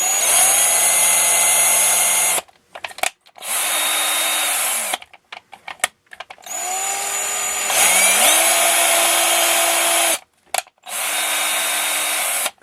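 A power drill with a 3.05mm bit runs in repeated long bursts, clearing holes in plastic RC car suspension arms, its motor whine shifting pitch as the bit bites, with brief pauses and handling clicks between.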